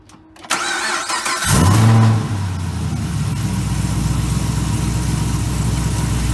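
A Chevrolet Camaro ZL1 cranks and fires up, its engine surging loudly for a moment before settling into a steady, rumbling idle close by, with no talking.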